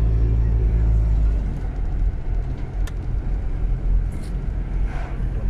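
A car drives along the road toward Blackpool, heard from inside as a steady low engine and road rumble, heavier at first and then easing slightly.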